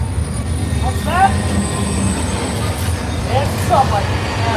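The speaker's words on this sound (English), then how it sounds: "It's a subway." A subway train rumbles steadily with low-frequency roar and intermittent high wheel squeals on the rails, close by, with faint background voices.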